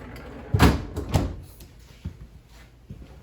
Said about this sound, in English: freezer in the bottom here with the nice pull-out drawer as well.